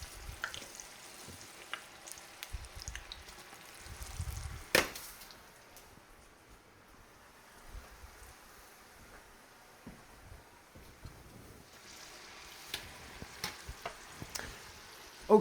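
French fries deep-frying in oil heated to 375 degrees for poutine, a soft, steady sizzle and crackle running throughout with a few sharper pops and clinks from stirring.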